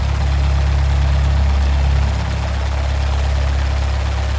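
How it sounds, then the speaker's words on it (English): Simulated light aircraft piston engine idling just after start in X-Plane, a steady low droning rumble, loud and close, dipping slightly partway through with no voices. "Okay, so we got a good motor start now"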